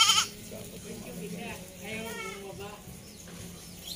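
Goats at a farm bleat several times, wavering nasal calls at moderate distance, spread across a few seconds with a short louder burst at the start and quiet rustling in between.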